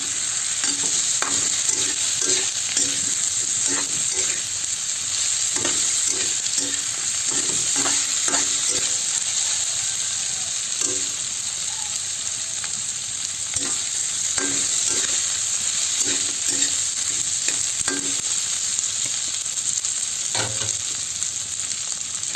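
Fried tofu cubes sautéing in a pan with kangkong and pork, a constant loud sizzle broken by repeated scraping strokes of a spatula stirring the pieces at an uneven rhythm.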